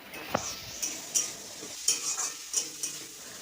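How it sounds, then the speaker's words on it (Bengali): Soaked soybean chunks being stirred and fried in a pan for a red amaranth curry, with a steady sizzle under repeated sharp scrapes and clinks of a spatula against the metal, close and fairly loud. "সয়াবিনটাকে দিয়ে একটু নাড়াচাড়া করব যাতে সয়াবিনটা একটু ভাজা ভাজা হয়ে যায়"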